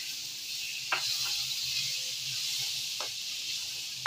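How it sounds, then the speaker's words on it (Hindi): Tamarind paste with soft onion and tomato frying in a pan for channa chaat, a steady faint sizzle with a few brief stirring scrapes, close and quiet. "इस तरीके से ज़रा इसको खूब फ्राई करेंगे"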